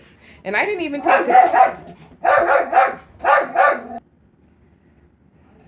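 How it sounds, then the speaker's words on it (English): A dog barks in several quick bursts near a person who is speaking, the barks and talk overlapping before falling silent. "sorry about the dog barking"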